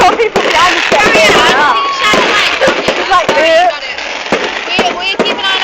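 At an outdoor fireworks display, sharp bangs and crackling bursts pop repeatedly at irregular intervals, some near and loud, while people in the crowd chatter and call out throughout.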